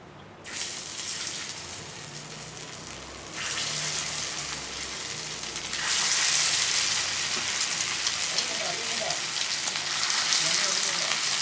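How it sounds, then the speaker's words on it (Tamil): Masala-marinated lake pomfret pieces frying in hot oil, a steady close sizzle and crackle that swells louder in two stages as more fish goes into the pan, with no talking. "இப்போ வாங்க நம்ம பொரிச்சிடலாம்."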